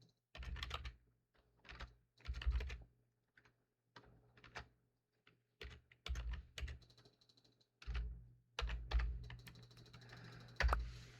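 Clicky bursts of typing on a computer keyboard come in short irregular flurries separated by brief pauses, close and fairly quiet, with no voices.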